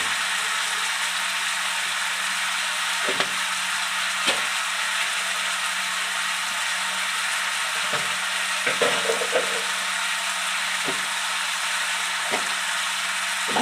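Cumin and turmeric powder being stirred and fried in a pan for a Bengali muri ghonto dish, with a constant loud hissing sizzle and occasional soft knocks from the stirring spoon.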